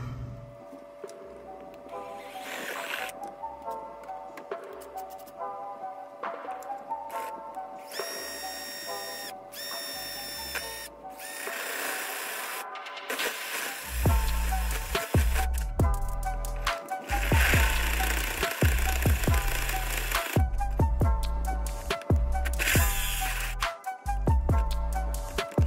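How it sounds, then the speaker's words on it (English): A CNC machine drills a custom bracket for a Holley Terminator X in a 1980 Camaro, with whirring spindle tones, bursts of high-pitched cutting and rhythmic low thumps that grow louder toward the end. "So let's get to drilling."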